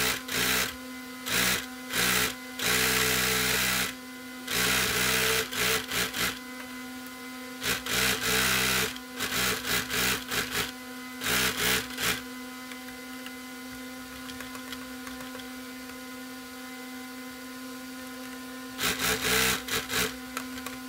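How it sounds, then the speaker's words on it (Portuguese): A sewing machine stitches a decorative seam along the edge of a pet garment, running in repeated bursts of steady mechanical whirring with short pauses between them, close and clear over a constant background hum. "nós vamos começar a costurar onde é a abertura"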